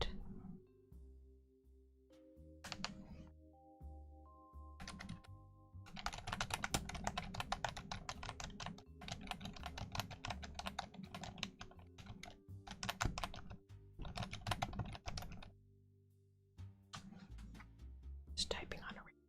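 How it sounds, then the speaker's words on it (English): Keys on a Logitech keyboard clatter in irregular bursts of quick taps, close and fairly quiet, with pauses between runs and a low steady hum underneath. "Just typing on a keyboard."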